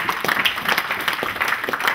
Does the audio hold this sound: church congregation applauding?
yes